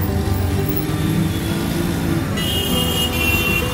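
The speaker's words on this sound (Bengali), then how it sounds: "ওই যে আমাদের গাড়ি আসছে অল্টো" A Maruti Alto car approaches, its engine a steady, close, low rumble that carries on without a break.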